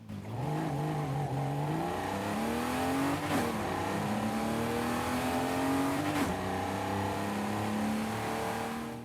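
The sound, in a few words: BMW M6 635CSI engine revving in video game Forza Horizon 5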